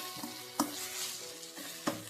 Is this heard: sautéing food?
yes